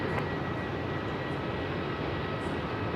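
A Philippine Airlines airliner's jet engines roar steadily at the start of its takeoff roll at Melbourne airport, a broad, even rumble heard from a distance with no talk.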